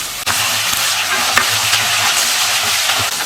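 Curry leaves drop into hot oil and fry with a loud, dense sizzle and crackle that holds steady for a few seconds. A couple of sharper spits pop out near the start and middle, and there is no talking.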